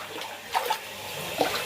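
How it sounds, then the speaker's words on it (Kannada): Rainwater that flooded a house during heavy rain is being pumped out with a motor, giving a steady, moderately faint watery rush with a few brief splashing surges and no talk. "ಮೋಟ್ರ್ ಆಗಿಬಿಟ್ಟು ನೀರು ಹೊರಗಡೆ ತೆಗಿತಾ ಇದ್ದೀವಿ"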